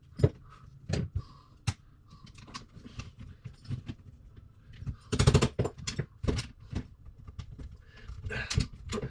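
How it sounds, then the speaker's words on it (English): Sharp metallic taps from a hammer driving out a stuck hinge pin on an X-Maxx RC car's suspension A-arms, irregular and spaced out at first, then a quick cluster of harder strikes, close by with no talking. "You might have to hammer it a little bit."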